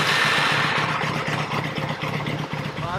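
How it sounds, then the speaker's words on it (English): A motorcycle engine runs at a steady idle, loud and close, with a continuous low throbbing rumble throughout and no speech. "let's fire the bike up and see how she's doing"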